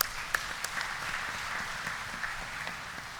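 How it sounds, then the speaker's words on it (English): Faint, distant applause rises from the audience at the IIT Kanpur 52nd convocation, a soft continuous patter of many hands with a few sharper claps standing out near the start. "A round of applause to all the leadership at this point of time."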